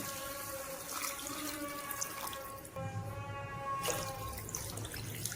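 Two cups of water run steadily into a pot of rice for potato biryani, a continuous splashing pour with faint clinks, no voices.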